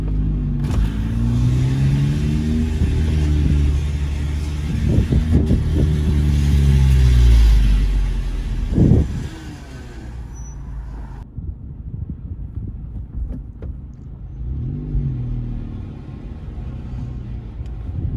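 A car engine rumbles loudly and revs up, peaks, then drops back to a steady idle with wind noise on the microphone.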